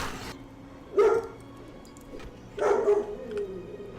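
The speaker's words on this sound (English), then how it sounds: "My dogs are kind of taking me out of the immersion, though." Two separate loud dog barks ring out a couple of seconds apart indoors, each with a short tail, over a low background hum and no talk.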